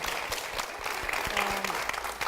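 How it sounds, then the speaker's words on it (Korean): A church congregation gives a big round of applause for their pastor, a dense, even wash of clapping that fills the room for a couple of seconds. "다시 한번 우리 목사님과 교회를 위해서 다시 한번 큰 박수 부탁드립니다"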